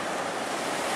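Ocean surf on Barangan beach, a popular surfing spot on Flores, Indonesia: a dense, steady wash of breaking waves with some wind, heard alone.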